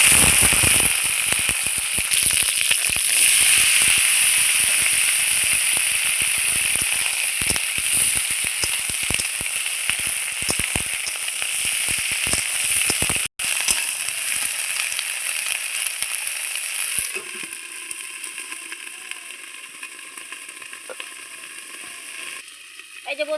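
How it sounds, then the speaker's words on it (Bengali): Cauliflower florets frying in hot mustard oil in a wok, a steady loud sizzle and crackle that gradually eases and drops sharply near the end, with someone talking over it. "লবণ হলুদ ছাড়াই কিন্তু আমি কপিটা ভেজে নিচ্ছি"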